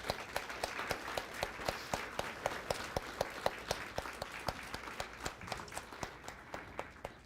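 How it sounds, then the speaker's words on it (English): A live audience claps for panelists coming onstage at a poetry panel: sustained, even applause of many hands with sharp individual claps in steady succession, no voices over it. "let's give them a big round of applause"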